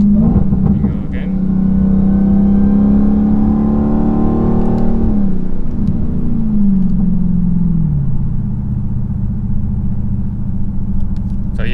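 A 2020 Dodge Challenger Hellcat with its mid mufflers deleted for a straight-through exhaust roars loudly and steadily up close, its pitch rising under throttle, then dropping and climbing again as it downshifts into a slow curve.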